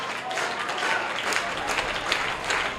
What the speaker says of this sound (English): The two strike claps are back again for the Wildcats.